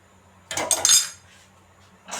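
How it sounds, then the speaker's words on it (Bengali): A metal lid set onto a cooking pot of beef tehari, a short clattering clink-and-rattle up close, followed by a second soft metallic touch. "আমি ঢাকনা দিয়ে ঢেকে দিয়েছি"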